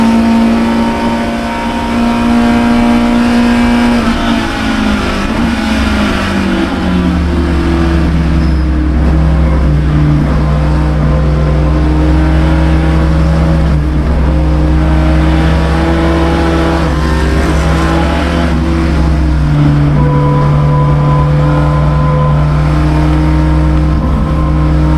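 A V8 NASCAR Cutlass and a Lotus Cortina race car accelerate hard around Lime Rock Park, their engines holding a loud, continuous roar with steadily shifting pitch as they climb through the revs, close and unbroken for the whole stretch.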